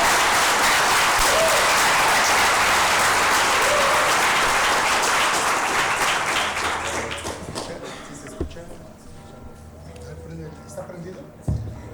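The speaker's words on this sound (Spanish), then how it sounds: "vamos a darle un fuerte aplauso a nuestro ponente de hoy" An audience applauds a guest speaker at a talk on God and science, loud dense clapping for about seven seconds, then fading to scattered claps and room noise with faint voices.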